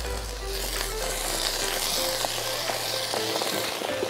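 Eggs frying on an iron griddle at a campsite breakfast, a steady dense sizzle with a brief louder hiss as water is sprinkled over their tops, continuous and close with no talking.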